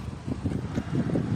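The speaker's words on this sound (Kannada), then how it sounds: "ಗಾಳಿ ಸಿಕ್ಕಾಪಟ್ಟಿದೆ." Strong wind buffets the microphone outdoors, a continuous low rumbling roar with gusty swells and no speech.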